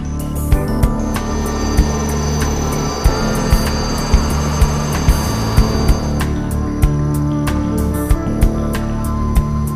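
A Puma Naval helicopter flies overhead with a steady engine whine and a regular rotor thump repeating about every half second, loud and close throughout.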